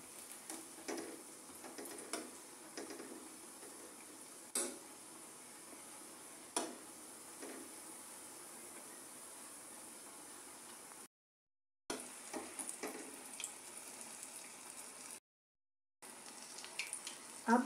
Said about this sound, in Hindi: अब हमारे ये भजिए पूरी तरह से फ्राई हो चुके हैं।